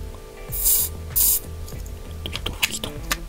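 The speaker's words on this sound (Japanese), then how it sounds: "高加速シンスプレーですね" Cyanoacrylate glue accelerator sprayed onto a plastic model kit of a DKW NZ350 motorcycle, two short close hissing bursts, then small clicks and handling noises of the can.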